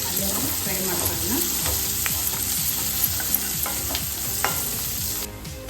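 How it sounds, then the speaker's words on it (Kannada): Chopped onion frying in a pan toward golden brown for a Karnataka-style beans palya, a steady close sizzle with scattered spatula scrapes and stirring knocks, no voices. "ಸ್ವಲ್ಪ ಗೋಲ್ಡನ್ ಬ್ರೌನ್ ಬರಲಿ ಅಲ್ಲಿವರೆಗೂ ಫ್ರೈ ಮಾಡ್ಕೊಳ್ಳೋಣ"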